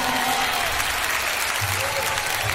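Concert crowd applauding during a live show in Japan, a dense, loud wash of clapping and cheering that holds steady, with a little background sound beneath.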